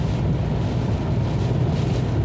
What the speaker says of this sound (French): il y a du gros vent là